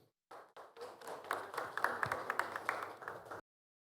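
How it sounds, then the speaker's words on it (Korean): Audience applause rises abruptly and fills roughly three seconds at a school innovation festival's closing session in Sejong, welcoming a panel of teachers and a researcher to the stage, then cuts off sharply with no talk over it. "여러분 큰 박수로 맞이해 주십시오"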